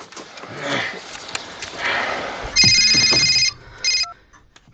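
A mobile phone ringtone rings loudly in two bright electronic bursts, the first lasting over a second and the second brief, following a stretch of breathy noise and sniffing close by.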